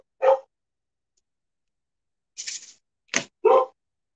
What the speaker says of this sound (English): That's if you can hear the barking, that is.